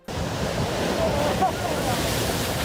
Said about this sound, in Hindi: कुछ लोगों ने मौके पर चौका मारा और वो उफनती लहरों पर सर्फिंग करने निकल पड़े